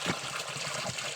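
Water pouring steadily from a natural spring in the countryside, a close, continuous splashing gush.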